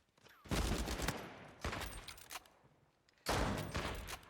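Rapid bursts of automatic gunfire in a shooter video game, three dense volleys separated by brief pauses, fairly close and punchy with no talking in between.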